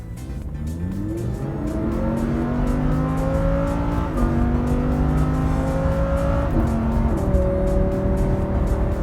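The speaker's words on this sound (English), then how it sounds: "there is something unique about the V10. It's the way the car launched itself and just drives." A Lamborghini V10 launches and accelerates hard, its engine note climbing steadily through several rapid upshifts, each marked by a brief dip in pitch before the rising howl resumes, loud and close throughout.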